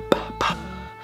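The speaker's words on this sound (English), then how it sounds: "That is a brand new bottle pop." Cork or cap popping from a brand new bottle of Clyde May's Straight Rye: one sharp pop, followed by a brief muffled bump and some light handling.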